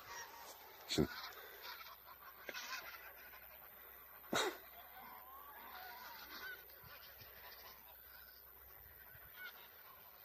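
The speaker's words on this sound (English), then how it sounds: "Geese chattering away." A flock of geese honking and chattering at a distance in marshland, with two sharp, louder calls standing out from the steady background of birds.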